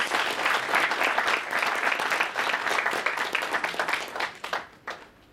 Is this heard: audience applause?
yes